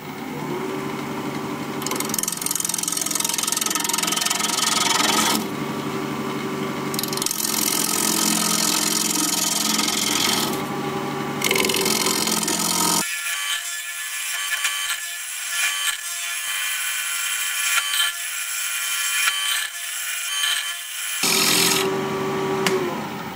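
A wood lathe spins at 1300 RPM while a 5/8 inch bowl gouge hollows the inside of a bowl, giving a steady loud whirring and cutting noise with pauses. The tone changes and thins for a stretch partway through.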